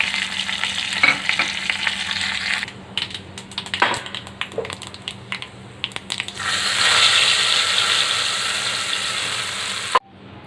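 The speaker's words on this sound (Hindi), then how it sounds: "तो कड़ी में तड़का लगाने के लिए मैंने ऑयल गर्म होने के लिए रख दिया है। ये अब मैं इसमें तड़के की चीज़ें डालूँगी, ज़ीरा, कड़ी पत्ता और" Cumin seeds, curry leaves and red chillies hit hot oil as a tempering for chicken dahi kadhi, giving a loud, steady sizzle and crackle with stirring clinks, a quieter patch mid-way, then a fierce final burst of frying before it cuts off.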